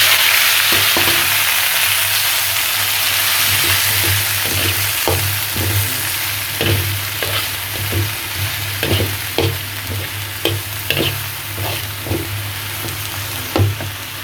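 Coriander leaves frying in oil in a wok, a loud steady sizzle with a rhythmic series of spatula knocks and scrapes as the leaves are stirred, close up with no voices.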